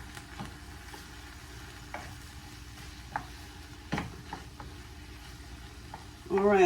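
Turkey and eggplant ragu mixture cooking in a pan, a low steady sizzle with faint stirring scrapes and a few soft clicks, ending in a louder clatter.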